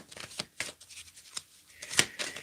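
Tarot cards shuffled by hand during a reading, a series of soft, quick riffling bursts and papery slaps at close range, fairly quiet and irregular with brief pauses between them.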